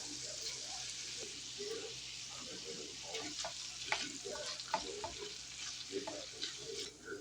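Soft, steady frying sizzle of spinach in a pan, quiet and continuous with occasional light stirring clicks.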